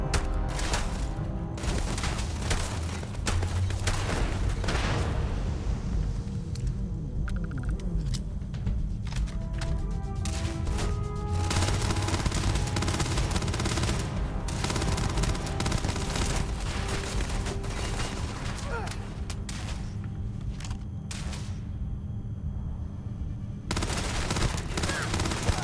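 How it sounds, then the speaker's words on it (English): Sustained, loud gunfire battle in the video game Starfield: overlapping rifle shots and bursts crackle almost nonstop for the whole stretch, with occasional heavier booms and brief lulls, and no voices. "shooting through the crack in the containers here"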